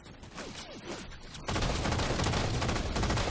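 SAW machine gun fire in Halo 4, a dense sustained burst of rapid gunfire that starts abruptly midway and stays loud, preceded by quieter game sounds with scattered distant shots.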